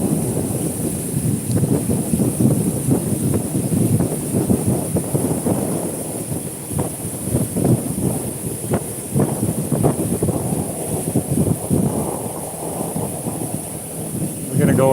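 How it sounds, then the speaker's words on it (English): Wind buffets the microphone on a lake during a fishing tournament, producing loud, continuous low rumbling gusts with some water noise beneath. "The wind definitely picked up."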